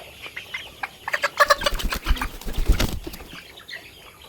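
Chickens clucking and squawking at a poultry farm, with a burst of wing flapping in the middle and scattered bird calls around it, fairly close and loud, with no one speaking.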